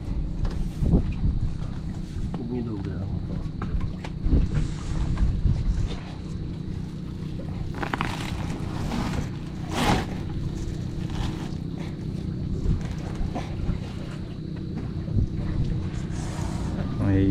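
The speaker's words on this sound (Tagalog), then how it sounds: "Lakas ng hangin," Strong wind buffets the microphone in continuous rumbling gusts, with faint voices underneath.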